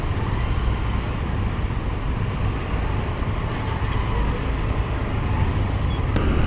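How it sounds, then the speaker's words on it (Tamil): Dense city road traffic with vehicles stuck in a jam heading toward Gandhipuram, a steady continuous rumble of engines and roadway noise throughout, close and loud with no breaks. "நம்ம ரொம்ப நேரமாக ஸ்டக் ஆகிருக்கோம் டிராஃபிக்கில்."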